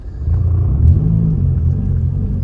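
A manual transmission car reverses while its engine revs under the throttle, a loud, close, steady low rumble that swells slightly as the clutch is let out.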